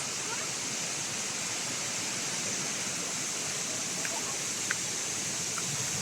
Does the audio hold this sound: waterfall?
yes